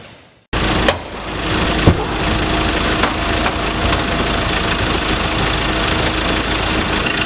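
A 2022 Ford Ranger XLT's 2.2 liter turbocharged four-cylinder diesel engine idles close by, a loud, steady clattering drone that starts abruptly and holds even throughout.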